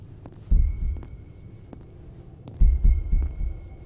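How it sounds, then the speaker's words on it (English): A heavy heartbeat thumps in a horror video game, two double-beat pulses a couple of seconds apart over a low hum, with a faint tone above them. "Why is there a heartbeat on the roof?"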